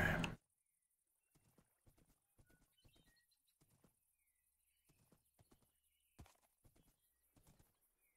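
In a video game, a horse's hooves clip-clop in a light, uneven rhythm, faint and close, with a whinny mixed in, after a short loud burst at the start and long near-silent gaps.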